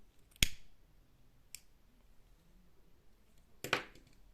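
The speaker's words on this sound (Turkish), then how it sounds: "İpimi burada kesiyorum" Scissors snip through crochet yarn in a quiet room: one sharp cut, a faint second click, then a longer crisp snip near the end, each short and close, with no talking.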